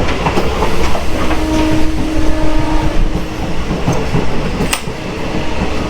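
A DEMU special train runs along the rails on the way to Changrabandha, its carriage rumbling loudly and steadily with rhythmic clickety-clack from the track joints, heard from inside the coach with no talk.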